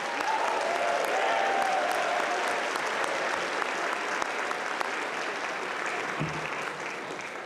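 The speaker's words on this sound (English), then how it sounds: "will you join me in another round of applause for the Millikin Faculty Jazz Ensemble" Steady, dense audience applause for a faculty jazz ensemble at a spring commencement ceremony, loud and continuous throughout with a faint tone lingering early on, tapering slightly at the end.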